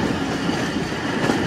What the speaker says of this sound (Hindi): सजवाल रेलवे स्टेशन पर आके ट्रेन जो है वो स्लो हो चुकी है।